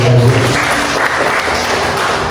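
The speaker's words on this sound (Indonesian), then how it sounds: "Tepuk tangan kita semua." A room full of people at a school teachers' gathering in Payakumbuh breaks into loud, steady applause that holds throughout with little variation.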